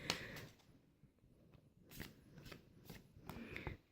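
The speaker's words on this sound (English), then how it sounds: "I'm just going to go ahead and shuffle the cards." A deck of tarot cards shuffled by hand, a quiet, close run of soft riffling and snapping bursts that cluster irregularly, with no one talking.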